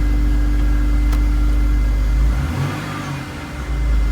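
The engine of a 2000 BMW Z3 Roadster runs with the engine light on, holding a steady low rumble and then dipping and swelling briefly as the revs change, close by and alone.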